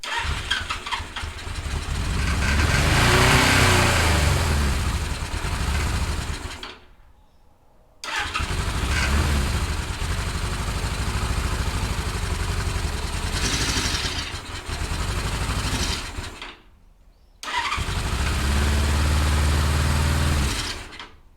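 A 1977 Suzuki GS550 motorcycle with freshly cleaned carburettors is cranked on choke in three long, loud, close bursts of starter-and-engine churning, separated by two brief pauses.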